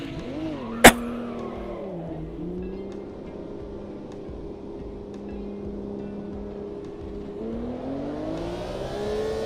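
Race car engine in the Automobilista 2 sim racing game: a loud, sustained engine note that rises and falls as it revs, with a sharp click near the start and a brief pitch climb at the end.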